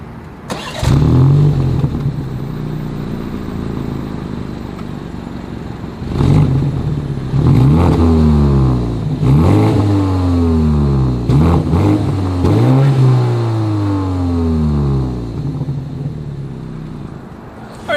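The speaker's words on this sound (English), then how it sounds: "As always, here is that exhaust clip." A 2022 BMW X3's exhaust is started and revved several times, with loud rising and falling engine sweeps in separate bursts between idle stretches, close by and with no voices.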